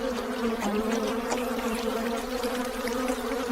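Bees buzz steadily and loudly at a hidden honey hive high in a tree, a dense, continuous drone with no pauses from start to end.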